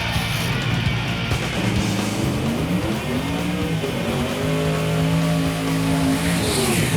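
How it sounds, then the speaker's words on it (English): A turbocharged 2000 Chevy S10 engine revs hard during a mini burnout and holds at high pitch, a loud steady roar with wavering tone, up close and without voices. "Kind of a mini burnout. Nothing better than a turbo car."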